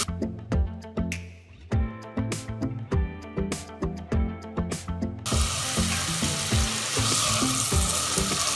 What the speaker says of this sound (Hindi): हरी मिर्च, 2 से 3 मिनट तक मज़ीद फ्राई करेंगे